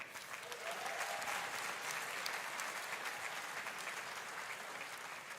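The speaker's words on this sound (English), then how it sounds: "That deserves a round of applause." Audience applause fills a large hall at a Roblox developer conference keynote, a dense steady wash of many clapping hands that swells early and holds evenly throughout, with no voices over it.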